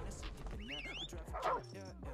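Dogs bark, yip and whimper in a video game, several short calls overlapping amid game sounds, with a voice audible too.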